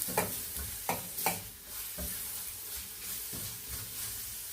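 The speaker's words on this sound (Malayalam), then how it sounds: "കാരറ്റ് കൊള്ളിട്ടു നന്നായിട്ടൊന്ന് വഴറ്റി കൊടുക്കാം." Carrots sautéing in a hot pan for a sweet carrot-sago dish, a steady oily sizzle broken by several sharp spatula scrapes and clacks against the pan early on, with no talking.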